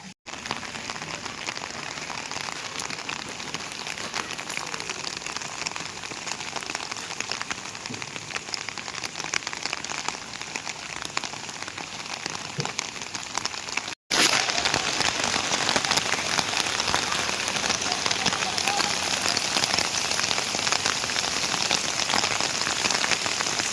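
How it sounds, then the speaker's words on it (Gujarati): Heavy rain pours down steadily, a dense continuous hiss of drops that grows louder and harsher partway through. "અહીંયા વરસાદ આવે છે, ધબધબાટી બોલાવે"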